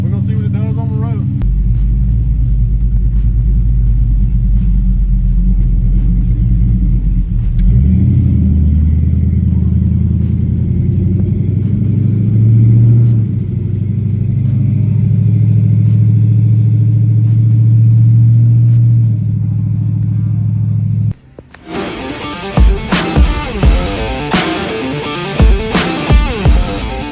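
A car with a swapped LS V8 engine drives on the road, heard from inside as a steady, heavy low rumble that shifts in pitch with throttle, then gives way to rougher clatter and bumps near the end.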